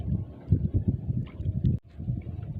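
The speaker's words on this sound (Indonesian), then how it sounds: "lumayan anginnya itu loh" Strong, gusty wind buffets the microphone outdoors on a fishing outing, a continuous low, rough rumble that swells and briefly drops out near the end.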